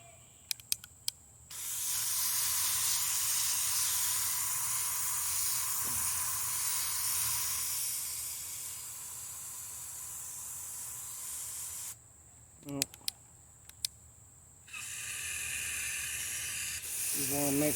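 A garden sprayer mists water onto herb plants in a long steady hiss, near and loud, stopping briefly with a few clicks of the trigger before a second spray.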